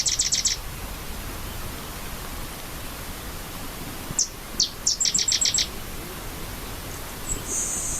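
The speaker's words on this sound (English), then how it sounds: "So hopefully you're able to pick out that sedge wren" A sedge wren sings from a marsh: short bursts of dry, rapid chattering notes, one at the start and a cluster of several later, fairly near over a constant hiss of wind or background noise.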